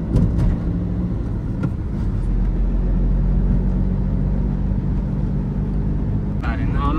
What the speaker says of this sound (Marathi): लय घाण ट्रॅफिक आहे इथं.